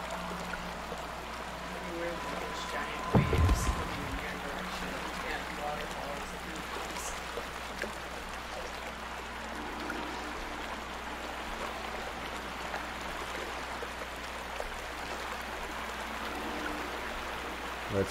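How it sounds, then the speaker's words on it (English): A rushing waterfall in the horror video game Outlast 2, a steady broadband wash of water running throughout with a brief thump near the start, while a person talks over it. "Oh, we're gonna go down a waterfall."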